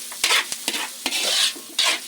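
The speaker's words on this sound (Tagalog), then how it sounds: "Igisa ko muna po siya ng slide yung sibuyas, bawang, luya." Onion, garlic and ginger sautéing in a pan as a base for stone crab, with a steady close sizzle broken by several sharp scraping stirs of a utensil against the pan.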